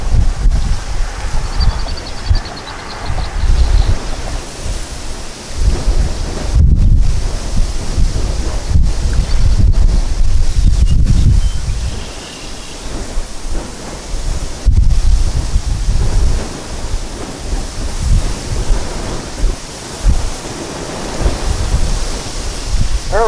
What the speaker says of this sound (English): You see how bad the wind is